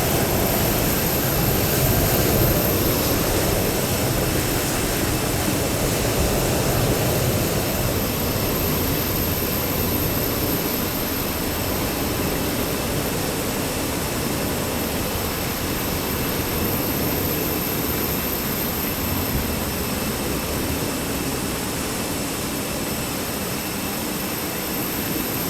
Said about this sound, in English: pushback and engine start approved